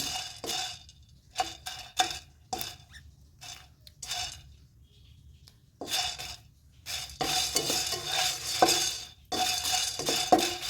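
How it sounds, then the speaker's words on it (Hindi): Pickle masala spices dry-roast in a pan over a full flame, heard as scattered scraping and stirring clatters of a utensil against the pan, then a denser stretch of rapid scraping and faint crackle. "जितना भी मसाला भुनी हूँ सब फुल फ्लेम पे ही भुनी हूँ"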